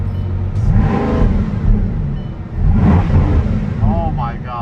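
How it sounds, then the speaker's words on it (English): A Bugatti engine revving in race mode at close range, loud surging bursts that rise and fall, with people talking over it. "Should I rev? Yeah. Maybe I do race mode."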